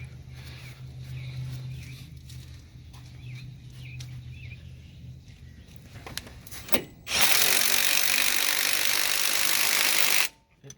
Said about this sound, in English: Put a wrench on the top, impact on the bottom, and suck it down.